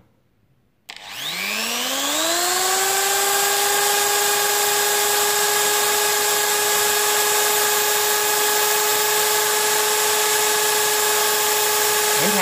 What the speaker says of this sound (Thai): เดี๋ยวผมจะเบาสว่านลงนะครับ